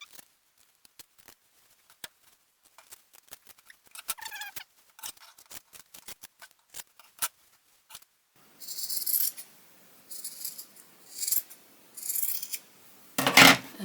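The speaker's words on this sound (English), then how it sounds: "you want to go ahead and cut this bit off, but make sure you do not cut your stitching" Scissors cut fabric while a simple shoulder bag is sewn: a long series of sharp, close snips comes first, then softer rustling, sliding cuts through cloth, all alone without talk.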